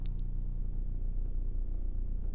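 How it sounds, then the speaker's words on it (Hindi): Chalk or marker strokes on a classroom board during an English grammar lesson, a steady scratchy scraping that runs continuously and close for a couple of seconds with no talk over it. "तो मैं यहाँ लिखती हूँ"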